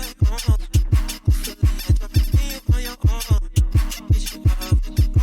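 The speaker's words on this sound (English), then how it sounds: "we've literally just added in a hi-hat just to kind of add into the bounce" A jersey club beat built in FL Studio, with a fresh hi-hat layered over a bouncy, pounding kick pattern and chopped vocal-like melody, looping at a steady fast tempo with no talking.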